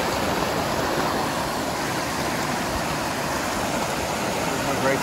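Steady broadband rushing of Wallace Creek on the Pacific Crest Trail fills the clip, a constant close wash with no pauses.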